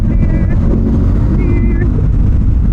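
Boat engine roaring steadily in the open air around Alaminos and the Hundred Islands, a loud continuous low rumble under faint wind, with nearby voices audible.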